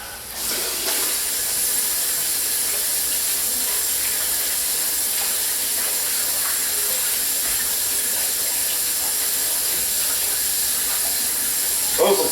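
Homemade salmon cakes sizzle in a hot pan, giving a steady, even hiss of frying that holds at the same level throughout with no talking.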